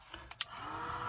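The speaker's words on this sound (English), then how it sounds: "So heat gun and heat set this." A heat gun heat-setting embossing powder on a small area of a papercraft card starts up after a few light clicks and settles into a steady, close whooshing blow.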